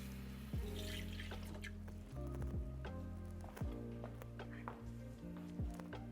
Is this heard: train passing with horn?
no